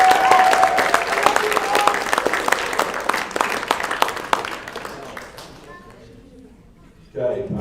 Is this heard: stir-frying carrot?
no